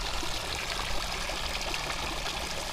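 Water from a small waterfall fed by a 12V pump splashes and trickles steadily, a close, continuous broadband rush with no speech over it.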